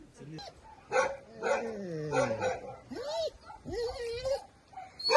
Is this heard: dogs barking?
yes